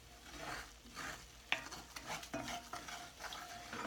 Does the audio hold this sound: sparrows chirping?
no